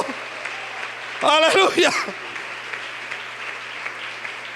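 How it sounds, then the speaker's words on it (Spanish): A church congregation applauds steadily in the background during a service while a voice calls out loudly over the clapping for a moment. "un aplauso para este Cristo, este Dios de nosotros."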